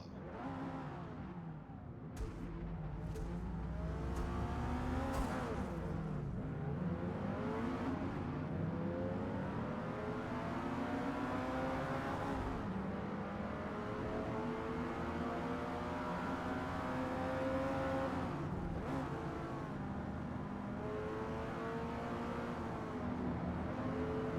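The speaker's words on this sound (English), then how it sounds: "Oh, a little flame out the back when I rev it." A race car engine in the Forza racing game revs and roars continuously, its pitch rising and falling through repeated throttle blips with a flame popping from the exhaust, loud and close with no talk.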